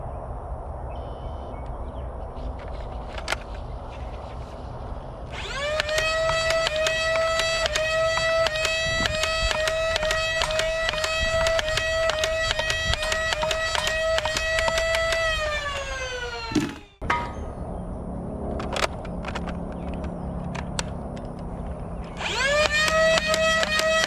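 A modified Dart Zone Pro Mk-3 blaster firing darts on full auto outdoors at the range, a sustained loud whirring buzz of rapid shots lasting about ten seconds, then stopping, then starting again at the end.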